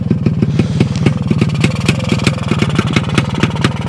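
A restored 1960s Panonia motorcycle engine runs at a steady loud idle, its rapid even thumping pulses close and continuous with no speech over it.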